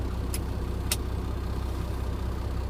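A commercial truck's diesel engine idles with a steady low rumble while air pressure builds, with two brief sharp hissing clicks near the start and no talking.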